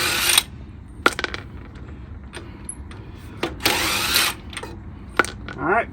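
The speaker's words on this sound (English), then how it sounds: "Using the impact makes the job a lot quicker." Impact wrench working wheel lug nuts on a car during a flat tire change, heard as several short, loud broadband bursts of about half a second each, separated by quieter gaps with a steady low background.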